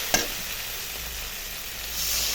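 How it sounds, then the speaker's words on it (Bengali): Spice paste fries with a constant hiss in a pan for snakehead fish curry, with a sharp knock at the start and a louder, brighter sizzle swelling near the end as liquid goes in. "এখন ঝোল দিয়ে দিব।"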